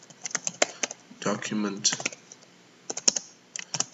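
Computer keyboard typing while entering a unique ID code into a document form: quick, close clicks in short bursts, with a voice speaking briefly in between.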